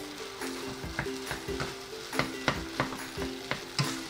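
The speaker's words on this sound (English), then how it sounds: "And just keep sauteing it to cook off the moisture in the ketchup" Rice, sausage and vegetables with ketchup sauté in a pan for omurice, a steady sizzle punctuated by regular spatula clacks and scrapes against the pan, close and fairly loud.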